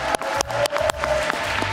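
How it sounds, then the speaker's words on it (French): Audience applause for a guest at a live comedy event, a short burst of clapping under a musical tone with sharp accented claps. "Je propose qu'on l'applaudisse."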